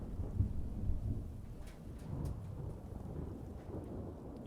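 Thunder rumbles with steady rain during a storm, as heard from indoors in a modded Skyrim game; low rolling booms swell and fade over continuous moderate rain noise, with no talking.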